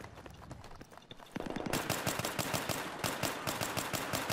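Regular-weapon gunfire rattles in a Battlefield 3 multiplayer match, starting with scattered shots and then breaking into fast, loud automatic bursts with a steady rhythm of sharp cracks.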